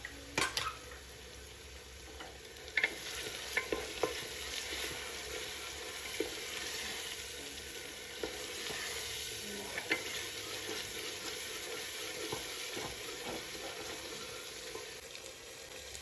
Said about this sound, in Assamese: পাঁচ মিনিটমান পিঁয়াজখিনি ভজাৰ পিছত